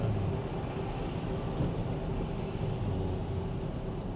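An 18-wheeler truck passes on a wet road in Cumberland County, heard as a steady, moderately quiet rumble with a low engine hum and tire hiss from inside a vehicle, with no talk.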